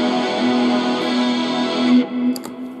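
Electric guitar played through a Zoom MS-50G multi-effects pedal with distortion engaged, a sustained buzzing, harmonically rich chord ringing steadily for about two seconds before cutting off into a brief faint decay, with no voice.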